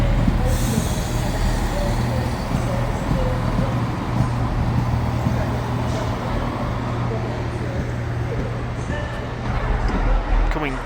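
A train idles at Stockport station with a steady low engine drone and hum, continuous and fairly near, with platform ambience and faint voices in the background.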